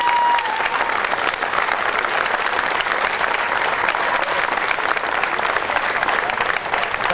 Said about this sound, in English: I'd like for us to give Ovisko a nice round of applause